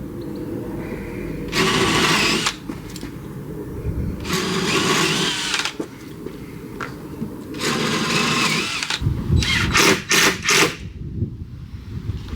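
Drill countersinking a hole while building out a 4x4 Sprinter campervan, running in several short bursts of whirring, loud and close, with gaps between and no talking.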